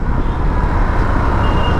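A Hero Xpulse 200 4V Pro motorcycle rides through busy traffic, its engine a steady, loud drone blended with the dense rumble of surrounding cars, trucks and buses, continuous throughout with no speech.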